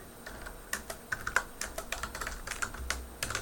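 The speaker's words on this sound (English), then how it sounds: "let me just type that into Twitter" Quick, close taps on a computer keyboard as a short message is typed out, light irregular clicks in small bursts over a quiet room.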